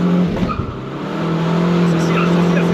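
A Volkswagen Golf 7 2.0 TDI 150 Stage 3 diesel revs with turbo whistle, a steady loud engine drone that holds and rises, heard close under a faint voice.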